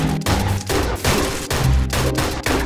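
Gunfire aimed at an Iron Golem in Minecraft, dense rapid bursts of loud shots in three quick volleys separated by brief gaps, no talking.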